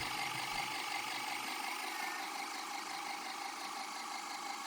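A pulse motor with 538-turn coils wired in series spins with a steady, continuous mechanical whir and hum, fairly quiet and even throughout, with no voices.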